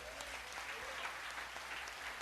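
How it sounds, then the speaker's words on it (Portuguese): A church congregation applauds in a steady, continuous wash of clapping that sounds somewhat distant and soft throughout. "Aplauda o Senhor Jesus por isso."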